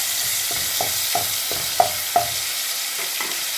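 Garlic and mustard seeds fry in hot oil for a homemade pickle, giving a steady close sizzle broken by about a dozen evenly spaced spoon taps and stirring scrapes, with no voices.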